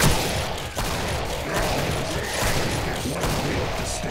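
Rapid gunfire from the Killing Floor video game, including shotgun blasts, crackles continuously at close range for about four seconds with no clear gaps and no talk.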